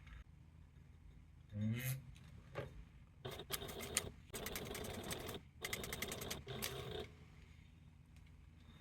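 A sewing machine, hand cranked, stitches a handbag at the edge of a zipper-pocket cutout, making several short bursts of quick, regular needle clatter separated by brief pauses, fairly close.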